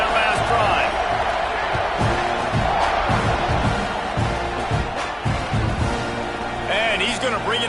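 A football stadium crowd roars and cheers steadily throughout, a dense wall of voices with whoops and surges, loud and continuous, while the kickoff unit takes the field after a scoring drive.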